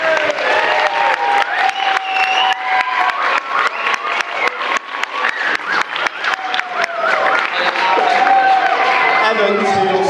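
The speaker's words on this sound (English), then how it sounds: "I think they deserve a round of applause because that was fun." Wedding guests clapping and cheering at a farm venue reception, dense steady applause with whoops and shouts throughout, loud and close, voices mixed in.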